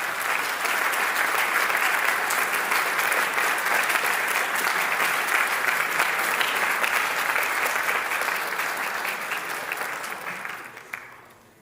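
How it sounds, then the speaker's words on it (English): Sustained applause from a large audience at a violin arangetram, dense and steady clapping for several seconds before tapering off at the end. "Please join me in a warm round of applause"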